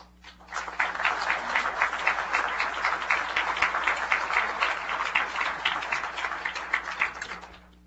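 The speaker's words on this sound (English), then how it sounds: "That was a full, robust round of applause" A full, sustained round of applause from a crowd at a swearing-in ceremony, dense steady clapping that swells in, holds for several seconds, then tapers off, with no talking over it.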